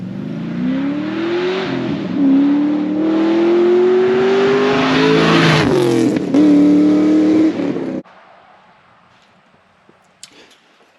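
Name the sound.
LS swapped 3rd gen Camaro with 4-inch dual exhaust and X-pipe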